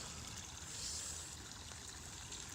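Rainwater running and overflowing from drains during a heavy downpour in Sydney, a continuous soft rushing trickle and gurgle heard steadily at low level without voices.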